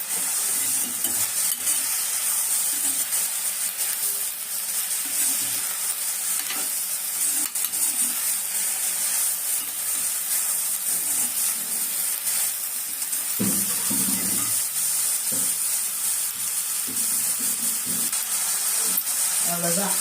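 Tempering for kara chutney sizzles and spits in a hot pan as it is stirred. The frying hiss is loud and continuous, with occasional scrapes and clinks of a utensil against the pan.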